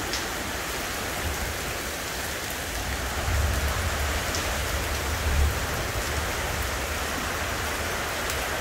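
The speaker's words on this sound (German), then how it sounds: "Läuft der Regen bis jetzt?" Heavy rain pours steadily during a violent storm that is battering a hut, a dense, continuous wash of drops with low rumbling swells around the middle, close and loud with no voices.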